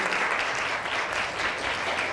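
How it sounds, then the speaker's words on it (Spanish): An audience at a book presentation applauds in a short, dense burst of close, even clapping. "Así que un aplauso para ustedes."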